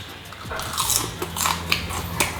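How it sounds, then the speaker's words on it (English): Close, crisp crunching and chewing of fried prawn head chips seasoned with chicken salt, a run of loud brittle bites and cracks at an uneven rhythm with no talking. "Can you hear that crunch?"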